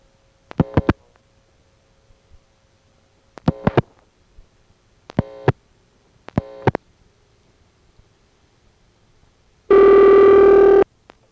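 Ringback tone on a telephone line reached through a step-by-step exchange near Chester, New York, heard as four evenly spaced double rings, clear and alone, followed by a loud steady buzzing tone at the end.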